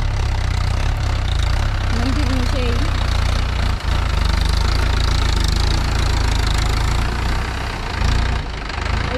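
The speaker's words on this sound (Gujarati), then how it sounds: "આજ મોટું ટ્રેક્ટર આવી છે," A big tractor engine idles close by with a loud, steady low rumble and knock, while a person speaks briefly over it.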